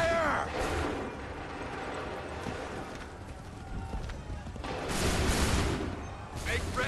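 Musket volleys crack out in an Assassin's Creed III Remastered battle at Lexington and Concord, with dense bursts of shots between shouted commands and background battle noise.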